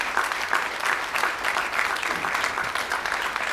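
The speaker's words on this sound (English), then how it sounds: "Let's give these guys a round of applause," Audience applause at a NASA Asteroid Grand Challenge announcement, a steady dense patter of many hands clapping at moderate distance, continuous with no voices over it.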